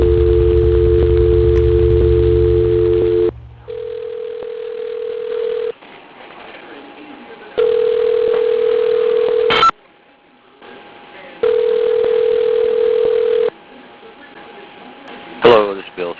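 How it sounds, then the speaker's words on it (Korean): Phone call to a plant safety manager rings out: long steady tones repeat about four times, each roughly two seconds, separated by quieter pauses with faint background noise. "컨트롤룸은 이후에도 수차례 전화를 걸었다."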